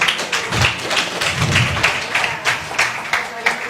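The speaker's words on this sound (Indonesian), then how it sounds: "Kita tepuk tangan sekali lagi." An audience claps together at a Christian–Muslim debate event, a dense patter of many hands spread across the room, fairly loud and steady throughout.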